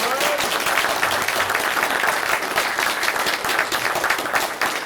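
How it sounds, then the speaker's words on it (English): Audience applause at the close of a comic-creator panel at a fan convention, dense and loud clapping from a large crowd, sustained evenly throughout with no voices rising above it. "Big round of applause for Jim Savage."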